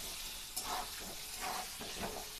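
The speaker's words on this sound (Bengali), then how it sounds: "দিয়ে আলুগুলোকে নেড়ে চেড়ে ভালো করে লাল করে ভেজে নেব" Potato pieces dusted with turmeric fry in hot oil for aloo dum with mutton keema, giving a soft, steady sizzle broken by a few gentle stirring scrapes.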